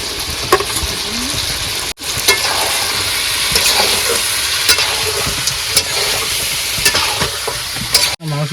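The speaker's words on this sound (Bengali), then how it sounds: "এবার দিয়ে দেবো আলু" Chicken curry frying in a pan with potatoes being added sizzles loudly and steadily, with stirring scrapes and a couple of brief drop-outs in the sound, no voices.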